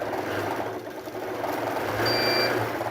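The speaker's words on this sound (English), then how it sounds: "we heard that beeping just right at the edge of where I can actually quilt within my safe zone" A longarm quilting machine sounds a sustained electronic warning beep as it reaches the edge of its set safe quilting zone, a steady tone holding for about half a second over the machine's constant motor hum.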